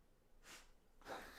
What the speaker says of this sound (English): That's my dog sneezing in the background